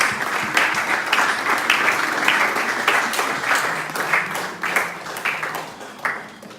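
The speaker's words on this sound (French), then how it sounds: "Clap for Jesus" A church congregation claps in rhythmic, sustained applause, a dense crowd of hands beating together steadily for several seconds with no voices standing out.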